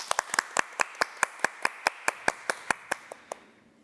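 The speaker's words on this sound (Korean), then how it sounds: "박수로 청해볼게요." Audience clapping in unison for a Korean army military band performance, about eighteen evenly spaced sharp claps in a steady rhythm that fade out at the end, with no talking.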